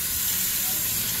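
Food sizzles and fries steadily in a pan with a loud, continuous hiss while chicken tenders and a loaded baked potato are being cooked.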